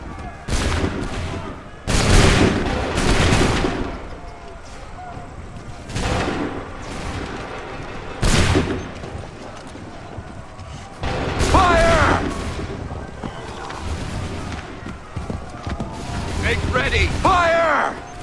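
Musket volleys crack out in several loud, booming bursts in a colonial battlefield game, separated by quieter stretches, while shouted orders and voices sound between and over the shots.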